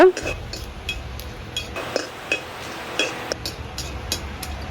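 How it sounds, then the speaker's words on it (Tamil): Cardamom pods and cloves are lightly roasted in a pan while being stirred, giving scattered clinks and taps of a utensil against metal, with a voice talking over them. "இதில் 3 ஏலக்காவும் கராம்பும் 3 கராம்பும் போட்டு லைட்லியாக வறுத்தெடுக்கிறாங்க."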